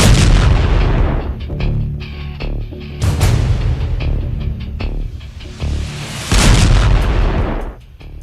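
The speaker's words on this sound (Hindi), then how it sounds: "फिर देखिए B-61 बम कैसे लॉन्च किया गया।" A B-61 nuclear bomb launched and exploding, heard as loud, heavy booming blasts with rumbling roar, two big bursts swelling and fading across the stretch, no voices.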